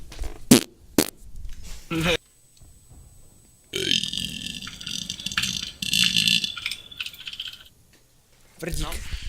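Several short, loud bursty body-noise blasts, a fart among burps and raspy squelches, stand out during a casual Czech gaming session, with gaps and people talking in between.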